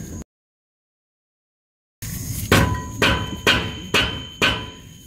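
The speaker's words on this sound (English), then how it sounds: "if you're gonna use a metal hammer, you can use it right here and just hit it around" After a brief silence, five loud, evenly spaced metal hammer strikes ring out against a Ford F150 brake rotor, each with a short resonant ring.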